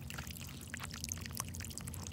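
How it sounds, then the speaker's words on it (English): Water gushes from a 7.5HP agricultural well pump feeding an orchard, a faint, steady splashing and gurgling flow heard from a distance with no voices. "So now water is being pumped throughout the entire orchard."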